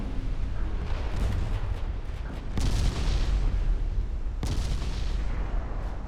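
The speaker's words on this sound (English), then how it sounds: "we are getting more torpedo hits" Heavy booming impacts of torpedoes striking ships in a naval warfare game set in 1946, with loud rumbling detonations, two sharp hits standing out amid continuous battle noise.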